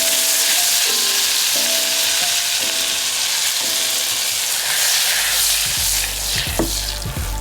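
Butter melting in a hot pan while making cowboy butter, a loud, steady sizzle and hiss that rises near the end with a few brief clatters.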